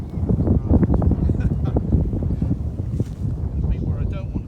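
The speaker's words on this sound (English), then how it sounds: "We've got the wind behind us." Steady wind roars over a boat under way, a dense, loud rush of air buffeting the microphone for the whole stretch, with faint splashes and light activity on board underneath.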